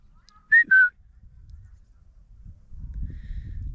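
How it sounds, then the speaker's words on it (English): A person whistles two short rising notes to call a dog, clear and close, followed by quiet rustling and low shuffling movement noise. "right, and now I can whistle"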